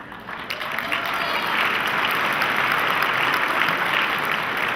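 An audience at an evening welcome event led by a school principal breaks into applause: a dense, even wash of many hands clapping, rising quickly and holding steady and fairly loud for nearly five seconds.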